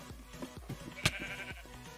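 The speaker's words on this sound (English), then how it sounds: "Fucking sheep." Sheep bleat repeatedly in the video game Project Nope Zone, several short wavering calls at moderate distance with one sharper sound partway through.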